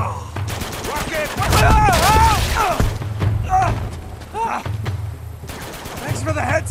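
In the video game Uncharted 2, gunfire and a heavy rocket blast rumble through a tense urban firefight, loud and close, while characters shout and talk over the chaos.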